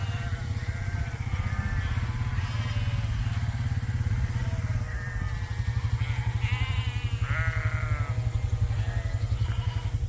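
Sheep and goats bleat repeatedly while grazing a rotated pasture on a cool morning, wavering calls scattered over a steady low engine-like drone, with no talk.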